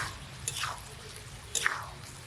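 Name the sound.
spice paste being stirred and fried for small fish curry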